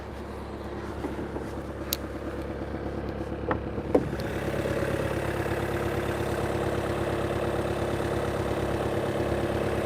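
A 2020 Volkswagen Passat Variant 2.0 TDI diesel with DSG idles steadily, its low rumbling clatter constant and close, with a few brief knocks early on before the engine note thickens slightly.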